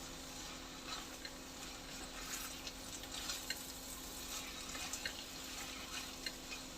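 Mixed vegetable bhaji with goda masala being stirred in a pan, a faint continuous sizzle with soft scattered scraping stirs, quiet and without any talking.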